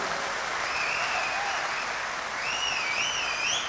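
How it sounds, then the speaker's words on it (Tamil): Loud, dense audience applause at a tribute concert, sustained and even throughout, with faint whistles riding over the crowd. "இதற்கு நம்ம உள்ளபூர்வமான பலத்த கரகோஷத்தை எனக்காக நீங்கள் கொடுங்க"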